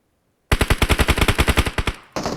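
Rapid automatic gunfire in a video game, about fifteen sharp, loud shots in an even burst, then a brief pause before firing resumes.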